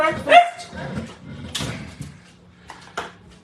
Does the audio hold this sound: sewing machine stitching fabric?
no